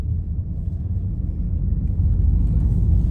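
A car speeding up to about 65 km/h: a deep, steady engine rumble that grows slightly louder and fuller toward the end, heard close and alone.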